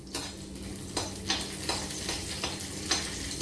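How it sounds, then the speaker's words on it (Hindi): Garlic sizzles steadily in a hot pan of oil in a home kitchen, with a constant crackling hiss and a few soft stirring scrapes and taps from a utensil. "ये देखिए, ये मैंने लहसुन डाल दिया।"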